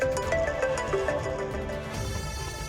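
A phone ringtone plays a short melodic tune of bright stepped tones over a busy background, shifting into a steadier sustained tone near the end.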